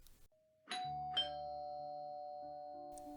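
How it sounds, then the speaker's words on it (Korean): A doorbell chimes two tones, ding-dong, close and clear, with the second note ringing out and sustaining for several seconds. "초인종 소리가 울려 퍼졌습니다."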